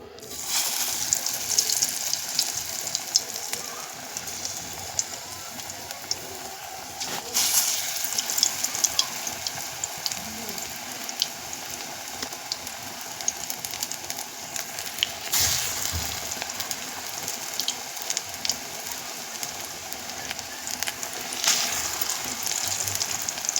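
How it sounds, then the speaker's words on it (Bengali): Masoor dal fritters (bora) frying in hot oil, a steady hissing sizzle that continues throughout with occasional louder crackling swells, close and even, no talk. "তেল গরম হয়ে গেছে বন্ধুরা, এবারে আমি একে একে বড়াগুলো ছেড়ে দেব।"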